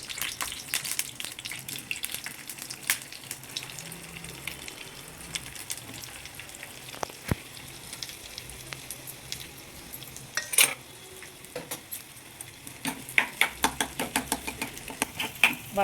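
Mashed potato frying in a little oil with cumin in a pan, a steady soft sizzle with scattered spoon scrapes and clinks that grow sharper and more frequent toward the end.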